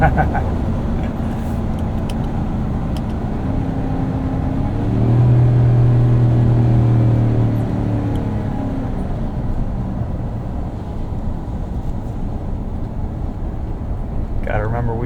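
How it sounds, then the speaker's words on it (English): A 2026 Ram 1500 pickup's 5.7L HEMI V8 rumbles inside the cab while towing a trailer, swelling into a deeper, louder exhaust growl midway, then settling back to a steady drone. "That Hemi does sound good."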